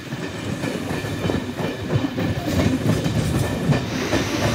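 A Mumbai local train rumbles steadily along waterlogged tracks near Kurla station, wheels clacking rhythmically in a dense, continuous roar with no voices.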